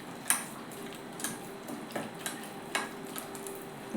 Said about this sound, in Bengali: আর একটু সুজিও দিয়েছি বন্ধুরা, ফেটিয়ে নেবো ভালো করে।